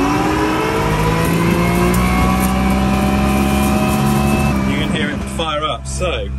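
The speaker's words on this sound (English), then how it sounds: "you'll hear the Telehawk start up. If we increase the revs on the command arm," Teagle Telehawk straw chopper mounted on a telehandler, starting up with its engine revs climbing into a loud, steady mechanical roar, then easing as the revs drop, with a voice speaking near the end.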